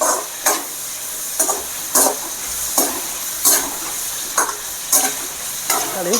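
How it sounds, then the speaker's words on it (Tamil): Onions and capsicum for masala egg podimas sizzle steadily in a hot pan, with a spatula scraping and stirring in regular strokes about every half second, close and alone. "இது நல்லா வதங்கட்டும்"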